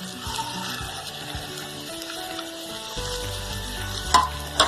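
Chicken frying with softened onions in a pan, a steady close sizzle with stirring, ending in a couple of sharper clatters against the pan, no talking.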